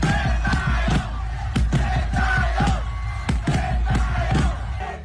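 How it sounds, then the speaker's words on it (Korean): Indonesian football fans in a stadium celebrate a first-ever quarter-final berth after beating Jordan 4-1, a loud massed crowd roaring and chanting their coach Shin Tae-yong's name in rhythmic, repeated bursts throughout. "역사상 첫 8강 진출 쾌거에 인도네시아 관중들은 신태용을 외치며 환호했습니다."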